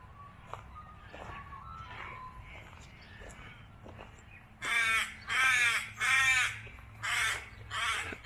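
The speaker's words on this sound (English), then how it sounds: "But the crows are very happy this morning," Several loud crows caw in a series of five harsh calls, preceded by faint background chatter and distant bird sounds outdoors in the early morning in Myrniong, Victoria, Australia.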